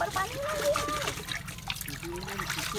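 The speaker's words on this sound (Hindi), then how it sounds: "अभी देखें ये पानी वाला खाल चल रहा है" Water trickling and splashing along a village irrigation channel in Pakistan where women wash clothes, a steady close flow with voices talking over it throughout.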